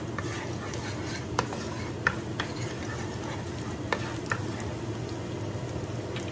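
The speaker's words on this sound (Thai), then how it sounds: "เราใส่กระเทียมลงไปเลยค่ะ เราจะผัดกระเทียมให้หอมๆสักนิดนึงนะคะ" Garlic sizzles and fries in a hot pan, a steady crackling hiss with occasional sharp spatula scrapes and taps as it is stirred, close and clear with no talking.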